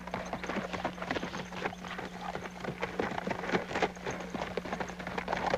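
Horse hooves clip-clop in a steady, rapid patter over a constant low hum, moderately close and continuous, with no voices.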